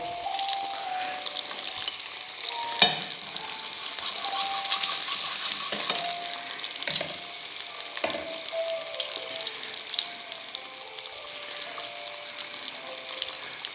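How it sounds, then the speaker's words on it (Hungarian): Crucian carp fry in a pan with a constant crisp sizzle and scattered spitting pops, close up and alone, with a few faint clinks along the way. "Hát az egyesével ki fog sülni"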